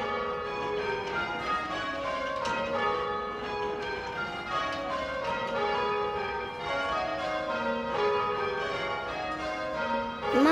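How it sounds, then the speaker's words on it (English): Church bells rung by pulling ropes in a tower, a continuous overlapping peal of many ringing strikes with long sustained tones, moderately loud and steady throughout. "Mummy's ringing the bells."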